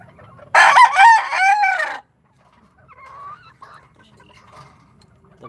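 Pet rooster crowing loudly and close for over a second, followed by softer clucking and faint calls from chickens in the background.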